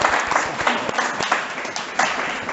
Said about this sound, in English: just give me a quick round of applause for